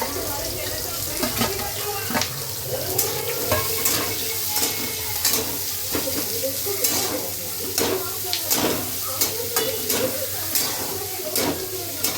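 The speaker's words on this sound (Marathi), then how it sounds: "त्यानंतर छान असा कांदा परतून घ्यायचा आहे छान लाल होऊन द्यायचा आहे कांदा" Onions sizzling and being stirred in a pan for village-style brinjal bharit, a dense continuous fry with frequent scraping strokes and some watery splashing sounds mixed in.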